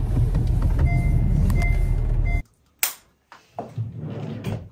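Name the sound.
car driving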